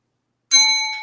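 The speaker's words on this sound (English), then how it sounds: "Make sure you trigger that bell." A single bright bell ding rings out after half a second of silence, its clear tone sustaining and slowly fading, used as a notification chime.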